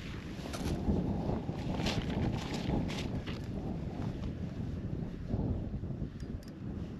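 Strong wind buffets the microphone in a constant low roar outdoors, with faint splashing and knocking sounds near the water, no voices.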